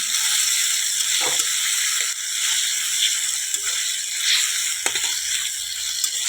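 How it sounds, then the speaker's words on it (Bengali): Ginger-garlic paste and green chillies frying in a pan, a steady broad sizzle throughout with a few clicks and scrapes of stirring, close and moderately loud with no talk. "এবারে যে আদা রসুন বাটা মশলাটা দিয়ে দিলাম এবারে আর দুটা কাঁচা লঙ্কা দিলাম তিনটা ঠিক আছে এবারে কষিয়ে নেবো"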